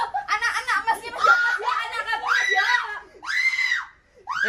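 A person screams at close range, letting out a run of loud, high-pitched shrieks and squeals mixed with laughing cries, with short pauses between bursts.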